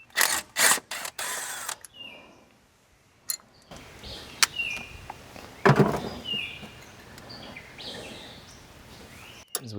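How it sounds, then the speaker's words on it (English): Push rods and rockers are pulled from an engine, giving sparse close metallic clicks, rattles and scrapes separated by quiet gaps, with a louder clatter midway. "As we pull these push rods out, we're going to keep them same order with cardboard"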